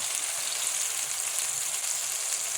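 Onions and peppers frying in a pan give a steady, even hiss and crackle that runs unbroken throughout, close and fairly loud, with no voices.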